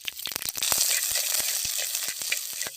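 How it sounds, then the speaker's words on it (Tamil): Cinnamon, ginger, garlic, chili and onion sautéing in hot oil for a village-style potato kurma, a steady close sizzle broken by sharp stirring clicks and scrapes against the pan. "அதுக்கு கொஞ்சம் எண்ணெய் சேர்த்து வதக்கி எடுத்துக்கலாம்."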